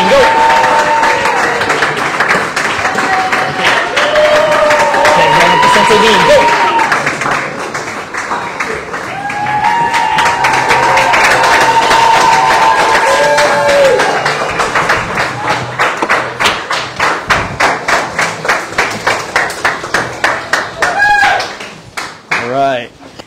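A crowd at a martial arts promotional event claps and cheers, voices shouting over the applause, which grows into fast rhythmic clapping before fading out.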